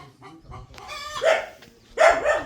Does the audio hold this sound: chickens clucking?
yes